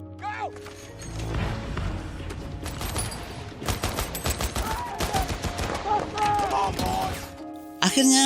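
Bursts of gunfire from a war film firefight: rapid rattling volleys and sharp shots with mechanical clatter, loud and close, mixed under a speaking voice and dramatic sound effects.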